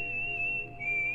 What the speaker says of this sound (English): the whistle didn't even sound like it was coming from him anymore